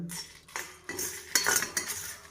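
Metal spoon scraping and clinking against a small kadai while lentils, cumin, cinnamon, cloves and dried Kashmiri red chillies are roasted, with a string of close, sharp stirring scrapes and no talking.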